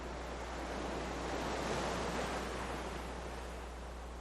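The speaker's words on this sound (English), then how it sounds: "the actual wave crashing in comes beforehand" An ocean wave rolls in as a broad, steady wash of surf that swells slightly in the middle, then the water eases back, with a low rumble beneath and no voices.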